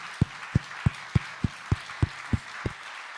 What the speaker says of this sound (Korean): 아버지께 한번 감사의 박수를 드리겠습니다